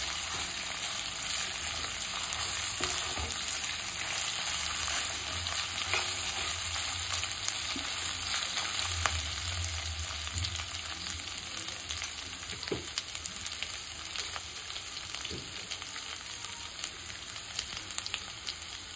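Crushed ginger and garlic sautéing in a pan, a steady close sizzle with occasional scrape and stir sounds, no voices.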